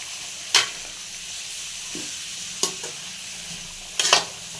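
Cabbage fry being stirred in a pan, with a low continuous sizzle broken by three sharp scraping strokes of the spoon, the last a quick double scrape.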